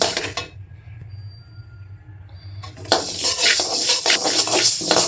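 After a quiet pause, a dry scraping and rustling starts as spices are stirred and roasted in a pan for masala powder, close and continuous.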